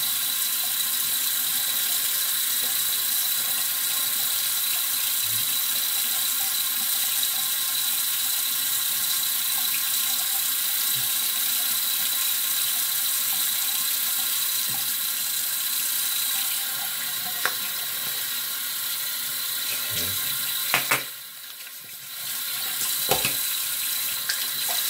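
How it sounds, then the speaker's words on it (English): Water running steadily from a bathroom tap for face splashing, a continuous close hiss throughout with a few brief splashes and a short pause near the end. "All right, put some cold water in my face."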